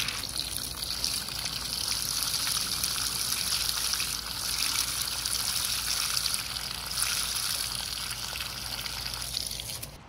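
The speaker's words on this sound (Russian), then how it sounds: "Потом зальем водой." Water pours steadily into a bowl in a continuous, hissing gush, fairly soft and unbroken for the whole stretch, with no voices.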